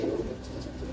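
Pigeons in a loft coo in a low, rolling burst, close and moderately loud, with a steady murmur of background noise and no talking.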